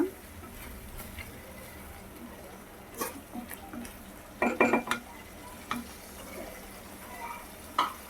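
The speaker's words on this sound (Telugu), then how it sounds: "సో చక్కగా పచ్చి వాసన పోయే వరకు దీన్ని వేయించుకుందామండి" Ginger-garlic paste fries in a pan for a restaurant-style mushroom masala curry, with a soft, constant sizzle under clattering spatula strokes, which bunch into a louder burst of scraping midway through.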